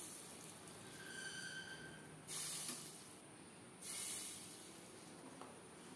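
Hot tempering of dried red chilies and cumin poured over mator lentil dal: a steady faint hiss with two brief bursts of louder sizzling, heard alone.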